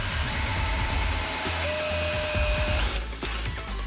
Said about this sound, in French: Et voici la perceuse à nouveau.